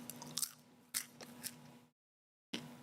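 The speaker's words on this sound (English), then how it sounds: "I'm munching on popcorn" Popcorn being munched close to a microphone, with repeated crunchy bites and chewing in short bursts, a brief silent gap where the mic drops out, then more chewing.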